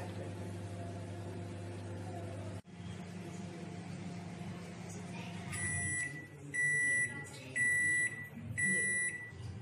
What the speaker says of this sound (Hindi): ये बीप साउंड आ गई है